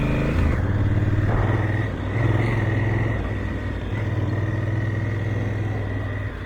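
A Honda CRF1000L adventure motorcycle being ridden, its engine a steady, loud, close drone with a slight rise in revs early on, joined by wind and road rumble.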